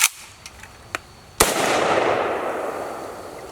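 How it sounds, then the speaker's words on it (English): An AK-47 rifle fires a single test shot: a sharp loud crack after a few faint mechanical clicks, followed by a long rolling echo that fades slowly across open ground. "I'll do a test shot just to see."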